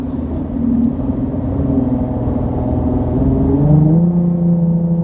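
A Nissan 370Z engine revs steadily above 3,000 RPM with a raspy, droning exhaust note that holds loud and even, then dips slightly in pitch near the end, with no voices over it.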